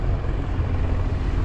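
Steady, dense low rumble of a helicopter droning overhead at a cycling race, loud and continuous with no voices.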